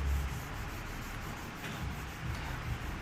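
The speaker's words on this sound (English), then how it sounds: "you're actually getting more out of the sanding block" A sanding block rubbed up and down over a surface during paint preparation, a steady, continuous abrasive scrubbing close by with slight swells in strength, no talk.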